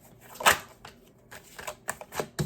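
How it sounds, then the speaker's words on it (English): Slick tarot cards are shuffled by hand in a quick run of crisp, clicking riffles and flicks, close and fairly quiet, with no talking. "It's hard to shuffle sometimes with like slick cards."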